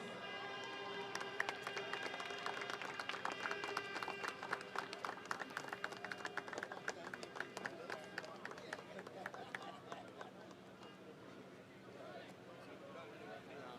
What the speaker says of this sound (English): Please give Kickstart Rush a big round of applause.